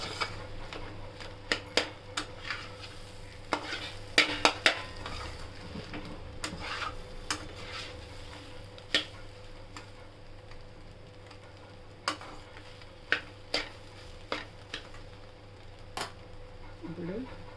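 Fish roe frying in oil over a low flame, a faint steady sizzle with scattered sharp pops and ticks throughout, close up; speech is present too.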